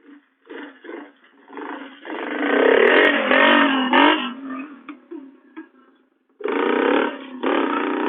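A 90cc dirt bike engine revs in loud, close bursts, rising into a sustained rasping snarl, dipping briefly, then kicking back up into another strong rev.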